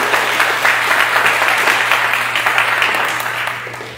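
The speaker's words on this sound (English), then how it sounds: "Big round of applause." Audience applause fills a Sunday talk at the Althea Center, a steady, dense wash of many hands clapping at once that holds loud for several seconds before easing off toward the end.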